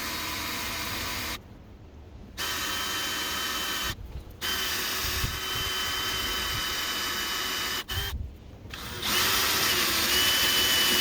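A power drill bores holes with stepped bits of 3/16, 1/4 and 11/32 inch, giving a loud, close, high whine in several long runs broken by brief pauses.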